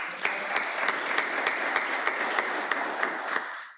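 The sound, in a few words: audience applause for panelists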